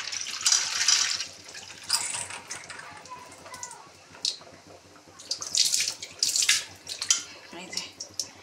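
Tap water runs and splashes into a sink while soaked food, cut and steeped in salt and turmeric, is drained and rinsed, in irregular close bursts with clinks and drips and no talk.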